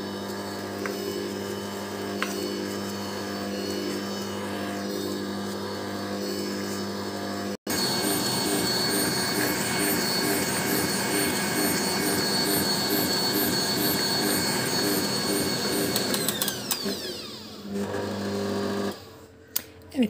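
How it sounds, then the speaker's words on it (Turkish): An electric mixer whisks thick custard cream in a bowl with a steady, close, high whirring whine that briefly cuts out, resumes louder, then slows and stops near the end. "Şimdi bunu güzelce çırpacağız."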